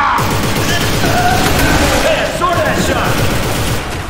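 Dense gunfire from a shooter video game, rapid overlapping shots and bursts crackling continuously at high volume with no pause.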